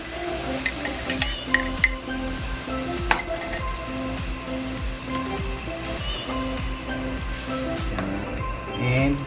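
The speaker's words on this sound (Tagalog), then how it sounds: "pwede na po natin ilagay yung pangalawang piga ng coconut milk" Coconut milk, the second pressing, poured into pork frying in its own rendered fat for ginataang kalabasa, with a steady close sizzle and bubbling, occasional utensil clinks and scrapes throughout.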